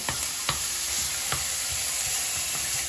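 Onion frying in a little oil in a warmed pan, a close steady sizzle broken by a few sharp clicks of a utensil stirring against the pan.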